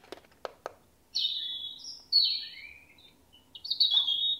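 Recorded birdsong played from a children's sleep-trainer alarm clock: a few sharp chirps followed by bright, warbling whistled phrases, clear and steady with a faint hiss underneath.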